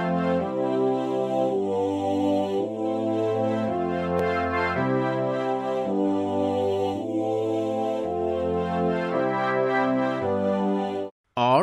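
The SpectMorph instrument morphs between a synthesized wave source and a second instrument sound, producing a steady sequence of sustained, tonal notes with rich harmonics that shift timbre smoothly, continuous and close, ending with a brief cut.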